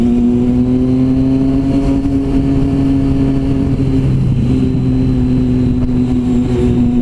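A passing motorcycle's steady, loud engine drone with a constant pitch holds throughout, close and unchanging, with no talk.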